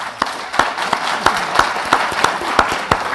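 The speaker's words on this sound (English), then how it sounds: "Let's applaud our excellent debaters" Audience applause for debaters at the close of a live-streamed education debate, with sharp individual claps standing out above a steady wash of clapping that runs throughout.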